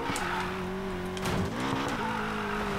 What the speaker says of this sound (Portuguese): Vamos fazer o drift? Nossa, driftzeira.